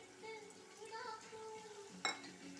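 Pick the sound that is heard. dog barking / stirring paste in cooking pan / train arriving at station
stirring paste in cooking pan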